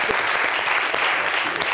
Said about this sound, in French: Et c'est du John Kiffy, ça s'applaudit.